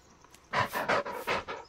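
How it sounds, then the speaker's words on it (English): A dog in the video game Blair Witch pants in quick, rhythmic breaths, close and moderately loud against a quiet outdoor background. "the first thing I wanted to do was pet the dog"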